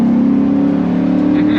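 A loud V8 engine of a 2004 Chevrolet SSR accelerating, droning steadily close by, a deep throaty rumble holding constant with a faint rise toward the end.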